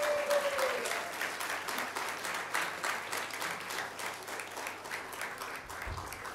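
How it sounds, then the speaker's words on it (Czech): An audience applauds to welcome a church big band, a dense, steady clapping of a sizable crowd that carries on for several seconds at moderate loudness with no talk. "Přivítejme velkým potleskem."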